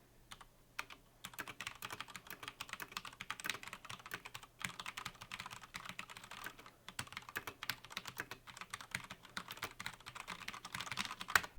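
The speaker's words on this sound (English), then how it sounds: "I'll go ahead and do a quick typing test now so you guys get an idea of how all of that goes." Steady, rapid clicking of a computer keyboard being typed on, picked up quietly through a CoolerMaster MasterPulse Pro gaming headset microphone, with irregular bursts of keystrokes and short pauses and no talking.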